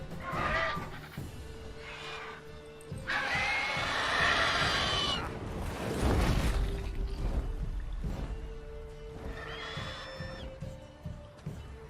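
A horse whinnies in The Witcher 3: Wild Hunt, its calls rising and falling several times among game sounds, with a dense louder rush in the middle.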